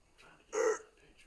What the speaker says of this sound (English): meow in the mic